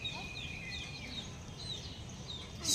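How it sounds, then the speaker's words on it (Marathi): Young chicken chicks at home, high thin peeping calls repeating softly over a quiet background, with a brief louder rustle near the end. "सोहमला पाहिजे होते कोंबडीचे पिल्ले."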